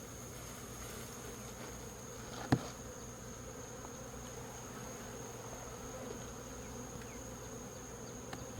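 Honey bees being gathered as a 300-bee sample from a hive, giving a steady low buzzing drone throughout with one brief sharp knock near the start.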